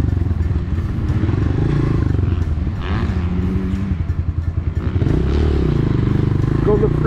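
Dirt bike engine running in second gear on an off-road track, a loud steady close drone with rhythmic pulsing and slight rises in revs throughout.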